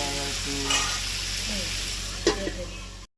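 Spices for a bata fish curry sauté in hot oil with a loud, continuous sizzle, stirred with a couple of scraping knocks from the spoon, close by and without speech.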